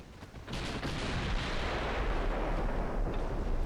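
Naval guns firing armour-piercing rounds in a dreadnought warship video game, a heavy booming salvo that swells into a sustained loud rumble with no talk.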